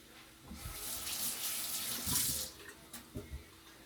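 Kitchen tap water runs into a sink while food is rinsed before going into a pot, a soft splashing gush that swells and breaks up as the stream hits the food, quiet and close with no talking.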